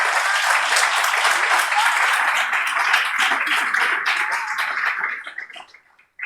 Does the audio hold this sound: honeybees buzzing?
no